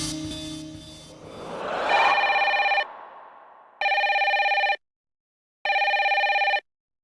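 Outgoing call ringback tone on a telephone, heard first under background noise and then as two clean, loud electronic ring bursts separated by silent pauses.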